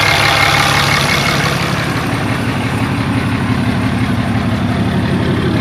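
A truck engine with turbos idles steadily and loud, its exhaust back pressure sensor unplugged, producing a continuous low rumble with no breaks.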